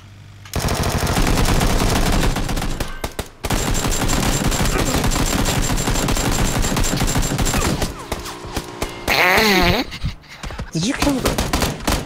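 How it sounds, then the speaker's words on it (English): Video game gunfire rattles loud and near in long sustained automatic bursts, briefly stopping and then resuming, with speech in the background. "Someone's shooting from up there, Bruno, as well."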